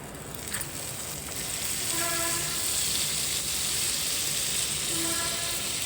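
Buttered bread toasting in a pan on a stove for bread omelette, giving a steady close sizzle with a faint intermittent tonal hum, unbroken and without talk.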